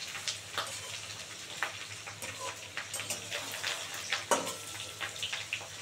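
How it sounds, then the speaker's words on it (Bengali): Food fries in a pan over low gas, giving a faint, uneven crackle and sputter with scattered pops and a low steady hum beneath. "আর এটা গ্যাস কমিয়ে কমিয়ে অনেকক্ষণ ধরে ভাজতে হবে।"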